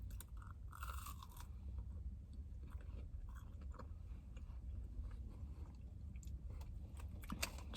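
Biting and chewing through Burger King jalapeño cheddar bites, close crunchy chews and small bites repeating steadily over several seconds, with no talking.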